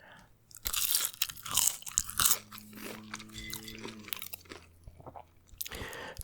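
Someone eats Wendy's french fries up close, with crisp crunches and soft wet chewing in uneven bursts, loudest early and then settling into quieter mastication.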